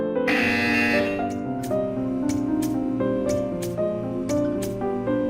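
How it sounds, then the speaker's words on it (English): Electronic buzzer tones from the video game Portal 2 in a rising and falling melodic pattern, with a loud opening blare followed by repeated short clicks and steady synthetic tones. "You will hear a buzzer."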